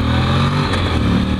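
Honda NX700 motorcycle at speed, a loud, steady engine drone heard briefly and close up, with no talking.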